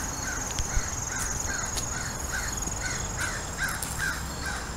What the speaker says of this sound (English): There are my ravens